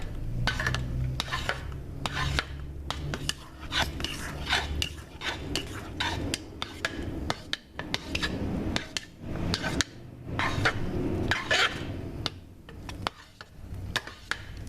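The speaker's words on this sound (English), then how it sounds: "Now we're going to put in our cup of oats and start stirring those in." Oats are stirred into a goat milk soap mixture in a pot, a quick, steady run of scraping and clinking strokes repeating fast, with occasional knocks against the side.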